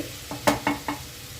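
Snake gourd softened in water and oil is stirred in a frying pan, giving three or four distinct scraping strokes over a faint sizzle, close and moderately loud.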